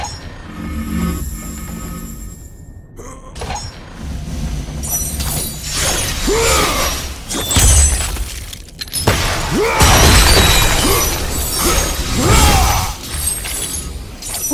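Eggs being smashed in God of War Ascension, with repeated loud crunching, shattering impacts in clustered bursts over busy game sound effects and a low rumbling backdrop.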